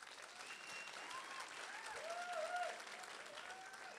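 An audience claps for a photographer at an Ekurhuleni campaign event, a steady, moderately distant wash of applause lasting throughout with a faint voice or tone drifting over it.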